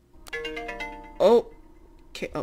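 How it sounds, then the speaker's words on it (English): Cell phone ringtone in the Nancy Drew: Secrets Can Kill video game, a short burst of bright tonal rings near the middle, with talk before and after it. "Oh, cell phone's ringing."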